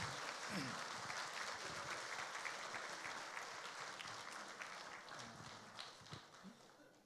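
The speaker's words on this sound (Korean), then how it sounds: "여러분 다시 한번 박수 한번 쳐주세요" Congregation applause at a church sermon, a steady patter of clapping that gradually fades toward the end, with some voices underneath.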